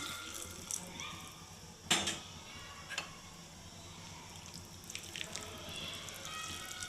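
Water is poured into a pot of rice for green-chilli chicken pulao, a soft, faint, steady watery wash with a few small clinks over a low background hum.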